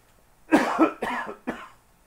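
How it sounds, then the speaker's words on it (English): Three harsh coughs, the first a quick double, close and fairly loud, separated by short pauses. "I'm like seriously coughing and starting to."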